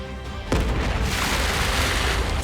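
A loud, deep explosion sound effect hits suddenly after a short lead-in, then roars on as a sustained rumbling blast from a Solar Beam and a Hydro Cannon colliding in a Pokémon battle.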